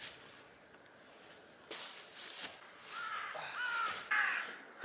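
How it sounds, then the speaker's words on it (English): Crows caw in a snowy forest as a snowstorm approaches in minus-ten cold; after a quiet start, several harsh caws come in the last couple of seconds, fairly distant and faint. "The birds are singing."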